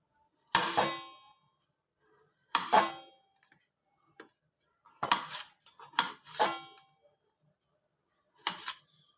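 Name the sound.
knife cutting boiled kohlrabi into small pieces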